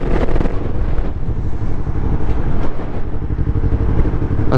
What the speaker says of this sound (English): The wind has gotten a lot worse.